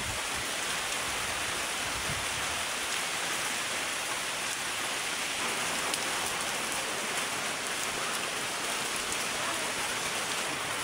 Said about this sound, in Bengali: আজকে পর্যাপ্ত পরিমাণ বৃষ্টি হইতেছে